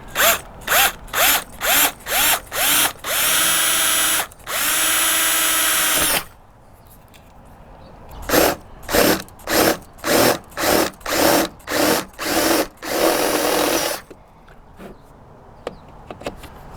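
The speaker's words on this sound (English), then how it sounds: "I'll be drilling some holes." A power drill whirs in a rapid series of short bursts, with two longer sustained runs, pausing briefly between passes as holes are drilled into an RV for brake lights.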